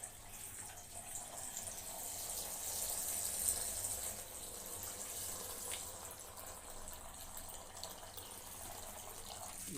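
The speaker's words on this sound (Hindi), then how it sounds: "पकड़ने के बाद उसमें दूध डालेंगे।" Milk poured into tea being made without a gas stove, a steady broadband watery pour and bubbling that runs without a break at even loudness, close, with no talking.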